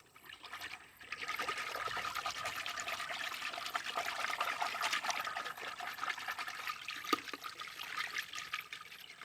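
A whisk stirring wet recycled paper pulp outdoors: a steady wet sloshing and trickling churn that starts after a brief pause and continues evenly, close and moderately loud, with no speech.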